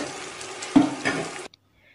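Hot oil sizzling steadily as beef for Eid al-Adha dishes fries in a pan, with a couple of louder stirring scrapes midway, then cutting to near silence.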